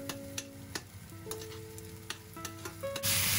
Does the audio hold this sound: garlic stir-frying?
yes